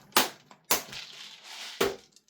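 BBs being loaded into a Tokyo Marui P320 gas blowback airsoft pistol magazine: three sharp, close clicks and snaps with short rattling in between, with no talking.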